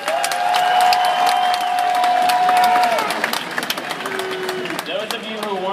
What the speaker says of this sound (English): clap if you were at Cal State Northridge 5 years ago